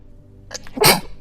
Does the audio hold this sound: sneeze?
yes